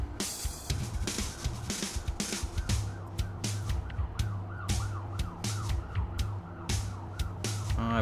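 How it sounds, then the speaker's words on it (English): A wailing emergency siren rises and falls repeatedly over steady low city traffic rumble in downtown Atlanta, fairly loud and continuous throughout. "I apologize for that siren. If you can hear it, I live in downtown Atlanta,"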